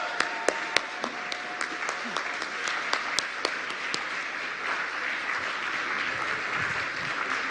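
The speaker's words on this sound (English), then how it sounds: "A round of applause." A conference audience at the Global Conference on Cyber Capacity Building breaks into sustained applause, dense clapping from many hands with a few sharp camera-like clicks early on, steady and moderately loud.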